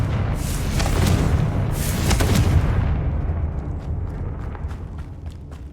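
A Confringo blasting spell explodes in Hogwarts Legacy, with loud booming bursts in the first half that roll off into a fading, crackling tail.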